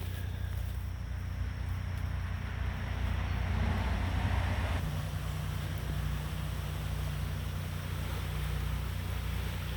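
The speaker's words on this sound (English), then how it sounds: "Now you can hear what used to be Mill Creek, the little stream over there." Floodwater rushes through Mill Creek, a small stream swollen and carrying debris, making a steady broadband roar that stays constant and fairly distant throughout with no talking.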